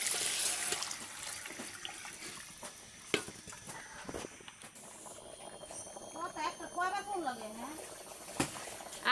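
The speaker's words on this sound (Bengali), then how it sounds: "পানিটা দিয়ে দিচ্ছে গরম পানিটা তরকারিটা মধ্যে" Hot water is poured into a pot of curry in a village home kitchen, a brief splashing trickle and bubbling amid rustling household background noise and faint voices.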